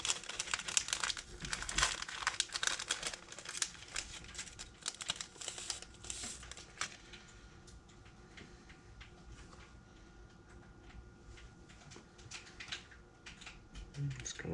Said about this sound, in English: New age crinkle flash here.